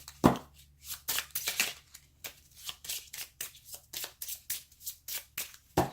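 Tarot cards being shuffled by hand close by: repeated soft papery riffles and slaps in quick, uneven bursts, with quiet room hum underneath.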